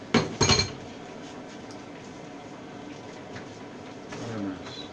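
Ingredients are stirred into a pot of Thai red curry with pork and pickled bamboo shoots, starting with a quick burst of loud metallic clanks, then a quiet stretch and softer scraping near the end.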